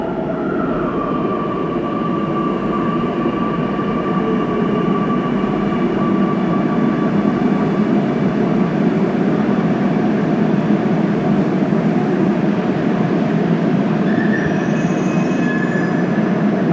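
A Kochi metro train rumbles along steadily from inside the car, loud and continuous, with faint wheel squeals rising over the drone.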